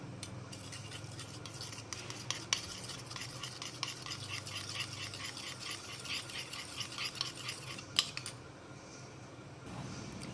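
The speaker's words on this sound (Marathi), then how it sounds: "याला छान फेटून घ्यायचं।" Eggs being beaten in a bowl for egg 65 fritters, a steady, busy run of rapid whisking strokes that continues for most of the stretch and then stops near the end; no one talks.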